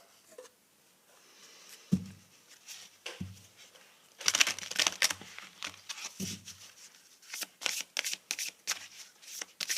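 A deck of tarot cards being shuffled by hand, with several bursts of crisp riffling and flicking close up, separated by short pauses and soft taps as the cards settle.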